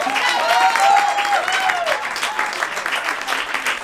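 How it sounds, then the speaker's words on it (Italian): An audience at an Italian music jam event applauds, steady close clapping throughout, with a person speaking briefly over the first moments. "Grazie Renzo, un applauso ancora."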